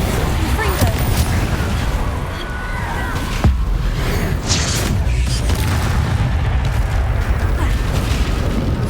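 Explosions from a Confringo fire spell in Hogwarts Legacy on PS5 go off over a busy mix of game sound effects, with a sharp boom and several rumbling blasts.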